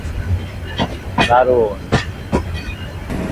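The Burimari Express travels through rain with a rumbling rattle of the carriage and intermittent clatter, while people talk over it.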